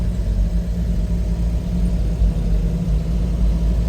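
A 1956 Chevrolet 235 inline-six engine runs steadily at idle, a constant low rumble with a slightly uneven mechanical throb, close and alone throughout.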